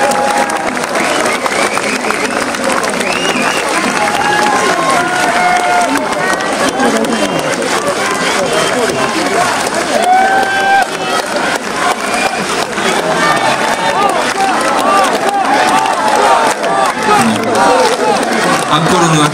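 An audience applauds a band at an outdoor shrine festival concert at Konno Hachimangu in 2019, with sustained dense clapping and crowd noise. Scattered cheers and chatter run through it, with occasional voices.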